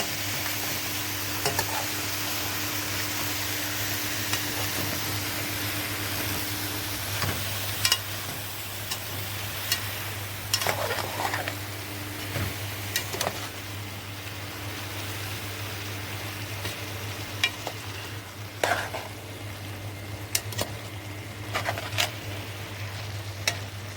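Tomato sauce sizzles steadily in a pan while a spoon scrapes and stirs in scattered strokes, a low constant hum underneath throughout.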